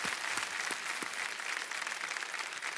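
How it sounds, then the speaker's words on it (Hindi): A studio audience on the quiz show Kaun Banega Crorepati applauds itself, giving a loud, dense, sustained wave of clapping that fills the whole stretch at an even level with no voices on top. "एक बार अपने ही लिए ताली बजा दीजिए जोर से।"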